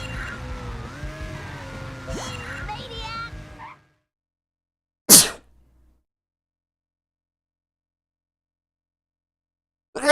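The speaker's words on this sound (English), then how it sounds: "I had to have my soft feminine sneeze and then my manly sneeze" Two sneezes from one person, first a soft, light sneeze after a stretch of talk, then a sharper, louder sneeze a few seconds later, followed by near silence.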